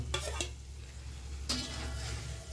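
Spices fry in a pan for bottle gourd poppy-seed curry, a steady low sizzle with a few short scraping stirs of a utensil against the pan, close and fairly quiet.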